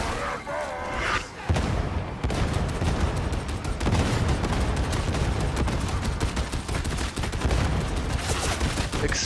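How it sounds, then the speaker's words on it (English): Dense, continuous gunfire and explosions from the Warhammer 40K Darktide video game, with an Ogryn lobbing grenades: rapid automatic bursts and booms pound without pause after a brief quieter start, loud and close. "Explosions, fire."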